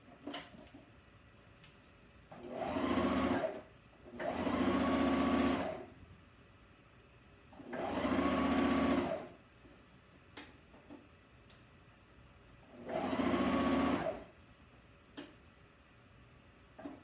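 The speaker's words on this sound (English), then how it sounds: "So you can see the cover stitch machine is not hard to use" A cover stitch machine sews a T-shirt sleeve, whirring in four short runs of one to two seconds each, separated by quiet gaps with faint ticking, close and moderately loud, with no talking.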